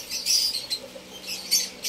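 African lovebirds give several shrill, harsh squawks and chirps in quick bursts, close and fairly loud, with short gaps between calls.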